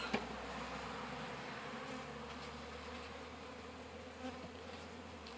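Honey bees swarm in an open beehive in March, a hive with a drone-laying queen, producing a dense, steady buzzing hum close by throughout.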